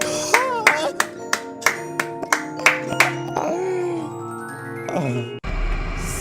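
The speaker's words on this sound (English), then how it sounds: "Clap it up." About ten sharp, distinct hand claps in a loose rhythm, ringing out over a background of electronic tones and synth notes.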